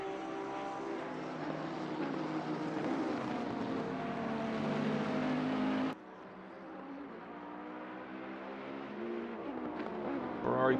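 Bentley and Ferrari race cars in an endurance racing video game at Zolder, engines droning steadily and loudly with shifting harmonic tones, a sudden drop partway through as the sound perspective changes, then building again.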